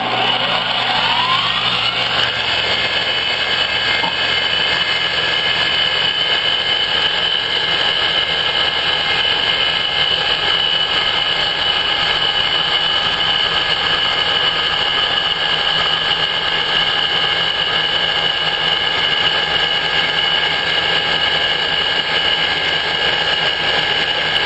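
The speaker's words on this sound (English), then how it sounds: "Airfoil design, using a half inch end mill in the plastic." A milling machine cuts plastic with a half-inch end mill while an airfoil fan blows the chips away, a loud, steady high-pitched whine with motor hum that holds evenly throughout.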